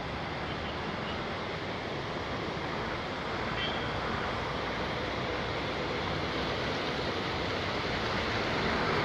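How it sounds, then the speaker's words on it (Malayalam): Muddy water from the opened Idukki dam rushes in a steady, loud, continuous roar that fills the scene without pause. "ഇതാണ് വെള്ളം വരുന്നത്."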